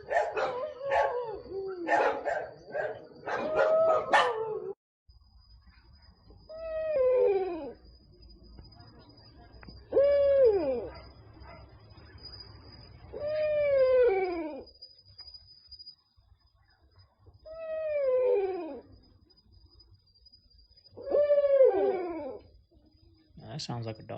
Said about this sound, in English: That sounds like a dog.